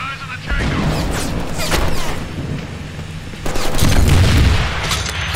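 Gunfire and heavy impacts from a Deadpool video game fight crash out in loud bursts, with a big booming blast near the end, and someone talks excitedly over the shooting.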